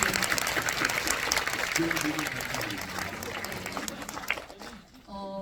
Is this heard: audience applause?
yes